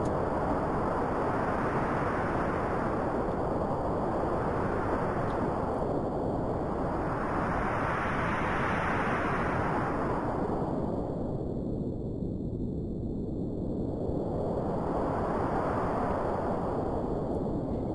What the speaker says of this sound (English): So this is starting to sound like a really good wind